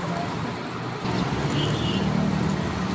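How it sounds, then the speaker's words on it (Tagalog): A tricycle motor passes on a roadside in the Philippines, its engine rumble swelling in the second half over steady traffic noise, heard close from a pedestrian walking along the road. "Ayan, may tricycle lang nga po."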